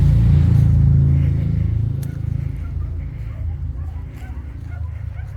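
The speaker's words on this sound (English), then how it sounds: "A loud bike is going by." A loud motorbike passes close by on a morning walking path, its engine roar strongest at first, then fading into the distance.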